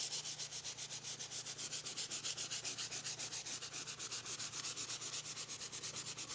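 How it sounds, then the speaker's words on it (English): Stained wood floor is hand sanded with 120 grit paper, a steady, rhythmic scrubbing of quick back-and-forth strokes, faint and close, with no voices. "we can hand sand that back in, help take off the dark area"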